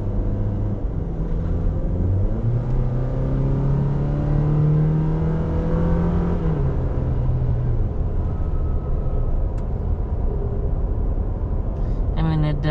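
A 2019 Toyota Tacoma SR5 pickup with its 2.7-liter four-cylinder engine pulls steadily from inside the cab, rising in pitch through the gears in a continuous hum with a brief shift dip midway, and speech runs over it.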